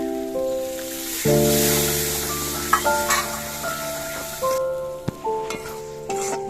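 Spice masala in a pan sizzles sharply as a little water is added, with scraping stirs and clinks over a steady tonal hum in the background.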